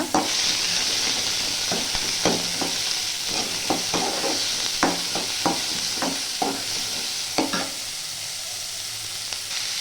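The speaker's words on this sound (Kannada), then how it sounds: "ಎಣ್ಣೆ ಕಾದ ನಂತರ ಈ ಥರ ಸಣ್ಣ ಸಣ್ಣದಾಗಿ ಹೆಚ್ಕೊಂಡಿರೋ ಈರುಳ್ಳಿ ಮತ್ತು ಒಂದೆರಡು ಎರಡು ಒಣಮೆಣಸಿನ್ಕಾಯಿನ ಹಾಕ್ಕೊಂಡು ಫ್ರೈ ಮಾಡ್ಕೊಳ್ಳೋಣ" Chopped onions and a couple of dried red chillies frying in hot oil for Kunigal-style avarekalu upsaru, a steady close sizzle punctuated by repeated sharp stirring scrapes, with no talking.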